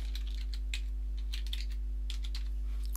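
Fingers enter a password on a computer keyboard to log in to an Oracle workspace: a quiet, irregular run of light key clicks over a low, steady electrical hum, with no talking.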